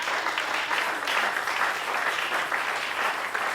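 A congregation claps together at a Sunday church service, a steady, dense wash of applause that holds evenly for a few seconds with no voices over it.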